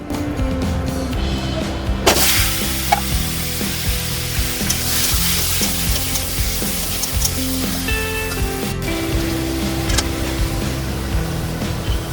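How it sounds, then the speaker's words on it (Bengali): Fat pieces and potatoes frying in oil for a Bengali dish, giving a steady broadband sizzle throughout with a background music bed and no talk. "চর্বিগুলো আছে আর আলুটা আছে একটু ভেজে নেবো তেল দিয়ে"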